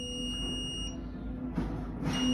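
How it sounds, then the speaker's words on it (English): Alarm sounding from a Potter PS40 low pressure switch being tested on a dry pipe sprinkler valve, a steady high electronic tone with brief hissy bursts, fairly quiet, no talk. "So we're in alarm."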